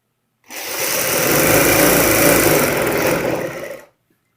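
A sewing machine runs one continuous burst of stitching along a palazzo pant seam, a loud close whirring buzz lasting about three seconds, starting and stopping abruptly with silence around it.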